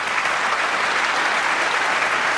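An audience at a snooker match at the Masters applauds, a dense, even round of clapping that holds steady and loud throughout the short stretch.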